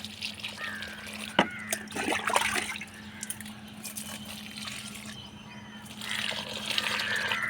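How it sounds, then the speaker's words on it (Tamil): Liquid fertilizer made from old rice, turmeric and asafoetida is poured in small amounts onto young plants, giving uneven trickling and splashing against a low background hum. "சின்ன செடிக்கெலாம் கொஞ்சம் கொஞ்சம் ஊற்றி விடுங்க"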